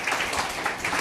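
An audience at an education gathering applauds, a dense wash of clapping that stays steady for a brief moment.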